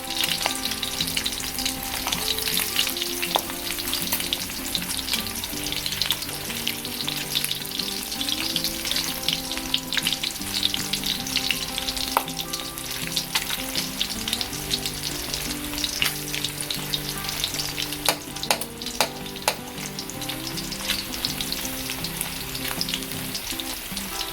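Spam slices frying in a pan until golden brown, a continuous crackling sizzle with occasional sharp pops and faint stirring, close and steady throughout.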